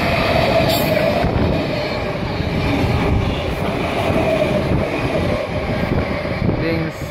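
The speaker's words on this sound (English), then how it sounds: "Tandem train passing through platform number 2." A Sydney Tandem train passing through a station platform, a loud, steady rumble of wheels and carriages with rhythmic clatter running the whole time, close by, and faint voices in the background.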